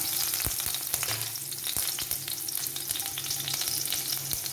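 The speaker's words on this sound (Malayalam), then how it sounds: "കടുകിട്ട് പൊട്ടി ഇനി നമുക്ക് കൊച്ചുള്ളി ഇട്ട് കൊടുക്കാം" Shallots frying in hot oil with popped mustard seeds for a Kerala yam stir-fry, a loud steady sizzle with frequent sharp crackles and pops and occasional stirring scrapes, close by with no talking.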